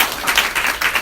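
Short burst of audience applause at a cooking demonstration, a dense patter of clapping hands swelling and easing slightly over about a second.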